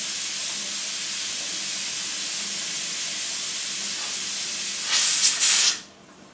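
Pressure canner hissing steam as a weighted gauge goes on for chicken bone broth, a loud continuous close hiss that flares briefly brighter near the end before dropping away.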